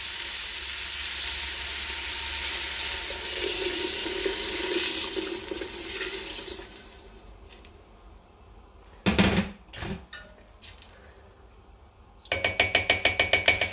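About 1.5 litres of water pours steadily into a stovetop pot holding 500 grams of peas for a Middle Eastern rice dish, a rushing splash for several seconds that fades into quiet, followed by scattered clinks and a rattling at the end.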